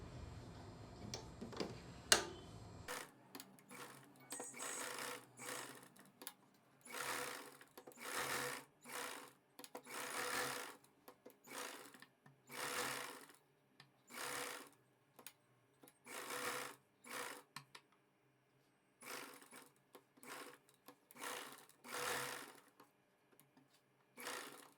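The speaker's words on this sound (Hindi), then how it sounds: "चारों तरफ सिलाई लगा देंगे।" A sewing machine stitches lining onto a blouse in repeated short bursts of rapid mechanical whirring, close and steady, separated by brief pauses.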